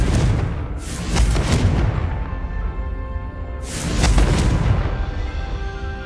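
Confringo blasting spells in the video game Hogwarts Legacy: two loud, booming explosive bursts a few seconds apart, each with a sharp whooshing crack over a low rumbling bed, with no talk.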